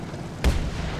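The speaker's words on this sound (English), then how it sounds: "We're gonna see if we can lob a shell" A tank cannon shell fired in War Thunder, one sharp heavy boom with a deep low thump that decays fast over a steady engine rumble.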